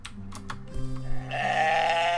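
Sheep bleating in the video game Moirai, a few short synthetic baas at close range, the last one drawn out and loud with a bright harmonic tone, alone with no talk over it.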